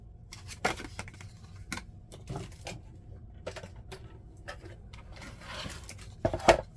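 Scissors cut paper in a series of crisp close snips separated by pauses and light paper rustling, with no talk.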